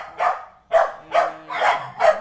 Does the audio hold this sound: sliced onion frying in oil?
no